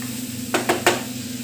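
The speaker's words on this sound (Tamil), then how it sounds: "இஞ்சி பூண்டு பேஸ்ட் போட்டோமா, அதை ஒரு வதக்கலாம்" Ginger garlic paste fries in a pan for a crab fry, under a low steady sizzle broken by three quick stirring scrapes close together in the middle.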